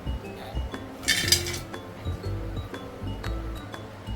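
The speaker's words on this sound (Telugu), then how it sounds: "ఈ ఎండు చేపలని మనము లైట్గా వేయించుకోవాలి" Dried fish is lightly roasted in a hot kadai, with close metallic clinks and scrapes of a spatula against the pan, sounding in a loose, irregular rhythm over a faint background hiss.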